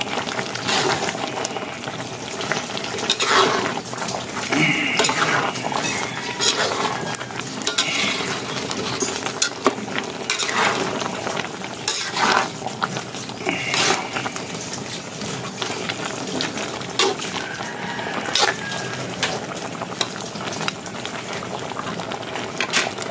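Food sizzling and bubbling in a pot while being stirred with a utensil, with occasional scrapes and clinks against the pot, continuous and close throughout.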